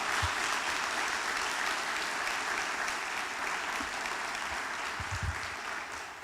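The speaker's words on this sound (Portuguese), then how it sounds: "Pode aplaudir Jesus por conta disso" A church congregation applauds in sustained, even clapping that fills the room, steady and fairly loud from start to finish with no speech over it.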